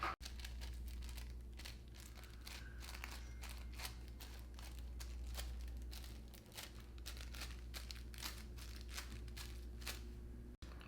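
Blotting paper for the face crumpled and handled close by, soft crinkling and rustling in irregular bursts over a steady low hum, with no talking.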